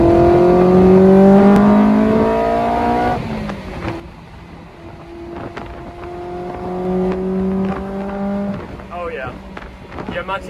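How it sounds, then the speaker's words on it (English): Honda S2000 engine revving hard into VTEC, a loud rising howl that climbs and cuts off, then falls to a lower idle before revving up again in shorter bursts, heard up close. "Let's see some VTEC action"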